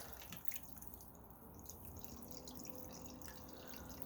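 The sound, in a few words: water running in backyard fountain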